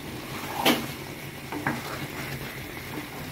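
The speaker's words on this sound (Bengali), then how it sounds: "চালটা একটু নাড়া দিয়ে দিচ্ছে।" Rice stirred in a pot while cooking biryani: a soft, continuous sizzle broken by two clear scraping clinks of the spoon against the pot, close and moderately loud.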